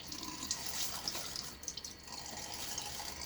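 Cold tap water splashes and runs steadily while a man wets his face before shaving, a close continuous watery rush with small splashes throughout.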